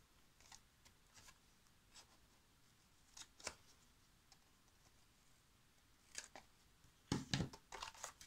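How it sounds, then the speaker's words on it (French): Scissors trimming nails, a sparse series of small, quiet clicks and snips spread out over several seconds, with a denser cluster of cuts near the end in an otherwise hushed room. "on va couper les ongles"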